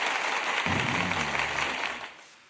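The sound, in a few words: applause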